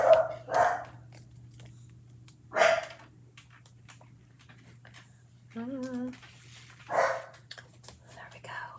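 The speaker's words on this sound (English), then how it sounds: "I can't concentrate with my dog barking so much." A dog barks a few times in short, separated bursts, fairly close, with a steady low hum underneath and some quiet activity between barks.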